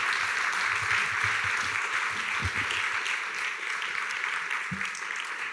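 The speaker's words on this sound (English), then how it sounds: "And I think they actually should be applauded for this." A conference audience at a digital summit in Prague applauds, a steady dense clapping from many hands that holds evenly throughout, with a few low thumps beneath.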